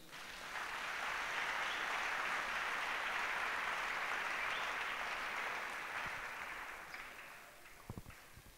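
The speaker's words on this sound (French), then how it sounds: "Acclamons Jésus." A church congregation applauds during a French-language sermon, a dense, steady wash of clapping that swells in quickly, holds for several seconds and fades, with a few scattered claps trailing at the end.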